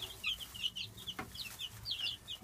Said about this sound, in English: Hi, chickens! Hi, chickens!